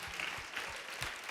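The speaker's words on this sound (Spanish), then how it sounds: "quiero invitarle a que le dé el mejor de todos los aplausos en esta noche" A church congregation claps together during a worship service, a brief, faint burst of applause heard at a distance.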